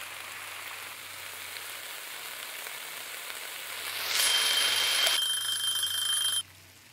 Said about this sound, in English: The frying pan sound.